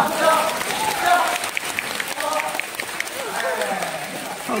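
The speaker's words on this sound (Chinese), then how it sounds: "鼓掌鼓掌" An audience bursts into applause during a Deyun Society crosstalk tongue-twister show in Nanjing, a dense, continuous patter of clapping with some voices mixed in.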